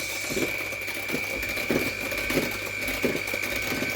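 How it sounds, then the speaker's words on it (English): An electric hand whisk beating chocolate orange cheesecake mixture runs as a steady whirring drone with a constant high whine and rhythmic scraping knocks about every 0.7 seconds as the beaters work through the bowl. "You can, if you wish, use the orange handled whisk"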